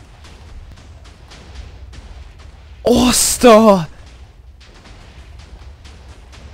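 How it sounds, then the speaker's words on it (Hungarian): Rumbling TNT blasts in Minecraft, a dense burst of explosions lasting about a second, set among excited speech and faint ongoing background noise. "Még robban! Azt hittem már abba hagyta a robbanás."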